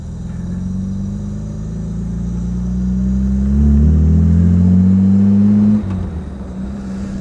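A 1959 Jaguar SS 100 recreation engine revs steadily and loudly while driving, its pitch rising around the middle before dropping sharply near the end, with no talk over it.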